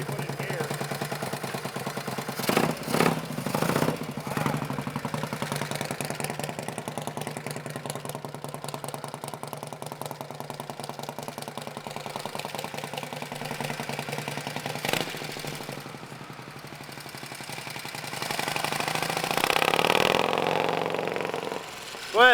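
An old Harley-Davidson Panhead motorcycle engine with a rebuilt Mikuni carburetor idles with a steady low rumble and a few sharp revs, then its note rises and fades as the bike moves off.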